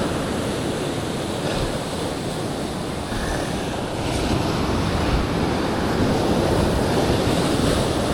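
Continuous ocean surf washing and roaring nearby, with wind noise over the microphone, steady and loud throughout.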